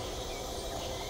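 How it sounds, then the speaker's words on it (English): Crickets chirp in a night scene of the point-and-click adventure game Night of the Rabbit, a brief, steady insect buzz that is moderately loud with no other sounds over it. "I can hear the crickets."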